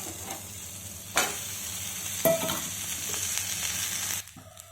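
Egg fried rice sizzles and fries in a pan while a utensil stirs and scrapes it, with occasional sharp clinks over a steady crackle that drops away near the end.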